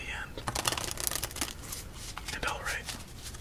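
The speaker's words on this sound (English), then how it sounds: "I think we're good just for three more shuffles to get into our first game." A deck of playing cards is shuffled for a solitaire game, giving riffling, flicking bursts and soft papery rustles close up, with a quiet voice murmuring underneath.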